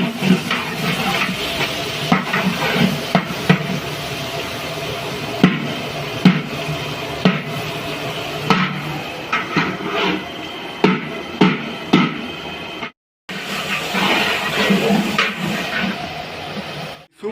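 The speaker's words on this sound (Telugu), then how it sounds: "ఇప్పుడు ఎర్రగడ్డలు కాస్త బ్రౌనిష్ కలర్లో వచ్చేదాకా మనం వేయించుకోవాలి." Onions frying in oil for Aash soup: a steady, loud sizzle and hiss runs throughout, with occasional stirring scrapes and a brief dropout near the end.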